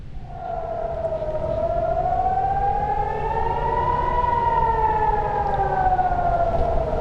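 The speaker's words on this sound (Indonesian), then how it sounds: "Sirene terus meraung saat beberapa roket melintasi langit kota Daharia" A civil defense air raid siren wails steadily over an Israeli city, loud and continuous, its pitch rising and falling slowly in one sustained tone.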